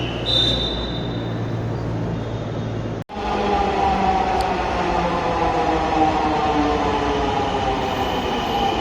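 A metro rail train rumbles past with a steady broadband roar and the hum of its wagons, loud and close, after a brief dropout near the start, with no talking.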